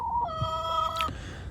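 A rooster from a backyard flock crows once, a single sustained call lasting about a second, fairly close and clear over low outdoor background noise.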